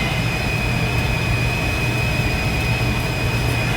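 A gas furnace runs steadily after ignition, and this furnace has been shaking badly when running. It gives off a constant, loud rumbling roar with a low hum and a faint high whine, without pauses, and no one speaks.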